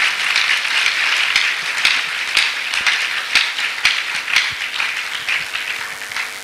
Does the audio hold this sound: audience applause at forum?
yes